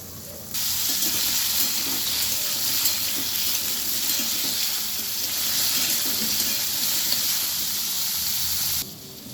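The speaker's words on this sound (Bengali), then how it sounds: "দিয়ে আমি পেঁপেগুলো খুব ভালোভাবে ভেজে নেব।" Papaya slices sizzle steadily in hot oil, a continuous crackling hiss that starts abruptly and cuts off near the end, loud and close.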